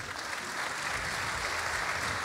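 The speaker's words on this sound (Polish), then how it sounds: "Nie no, brawa można bić" Audience applause fills a lecture hall at a Woodstock 2013 meeting with a general, a steady moderately loud wash of clapping throughout.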